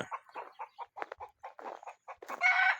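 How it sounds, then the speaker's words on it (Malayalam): Chickens cluck in a quick series of short calls close by, ending with a louder, drawn-out crow-like cry. "കോഴിയൊക്കെ കൂക്കുന്നു"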